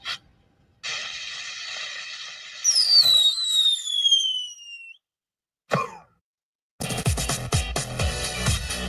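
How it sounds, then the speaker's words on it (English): A firework sound effect whistles upward with a falling shriek, then fizzles into a short crackle and pop instead of a bang, a dud, followed by loud, busy music on a radio show. "It's just a firework dud."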